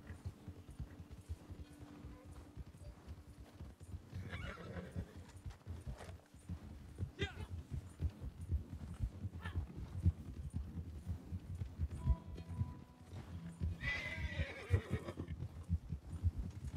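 In the video game Red Dead Redemption II, a horse's hooves clip-clop in a steady rhythm, broken by several whinnying neighs, all faint and quiet throughout.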